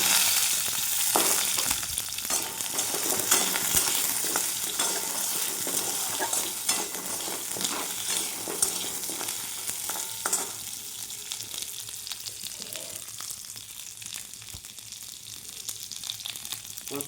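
Hog plums sizzle and hiss steadily in hot oil with fish roe as they are stirred, making a loud, continuous close-up frying noise that fades a little toward the end.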